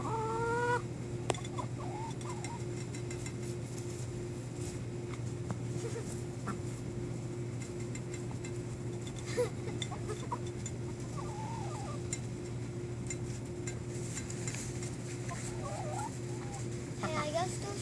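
Hens clucking in short, scattered bursts, fairly faint over a constant background hum, with occasional quiet voices.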